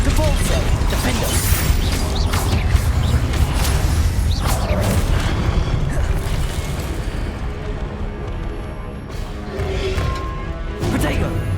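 Rapid spell blasts, crashes and explosive booms from Hogwarts Legacy combat, loud and dense throughout with sharp impacts. A voice calls out over the action.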